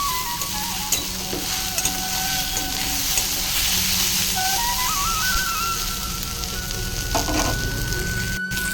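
Taro stolons (kochu loti) fry in a pan with a steady, close sizzle and intermittent stirring scrapes, and a faint whistle-like tone rises partway through; nobody speaks.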